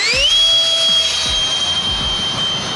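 A Freewing F8 electric ducted-fan RC model jet gives a loud, sustained high-pitched turbine whine with a rising tone as it is hand-launched and climbs away, with wind buffeting and low thumps underneath.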